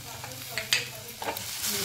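Okra lightly salted and turned over in a pan, a soft steady sizzle with a few faint utensil scrapes, close and quiet, no talking.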